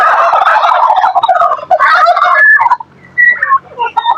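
Turkeys gobble loudly and close by in rapid, warbling bursts, with a brief lull before more calls break out.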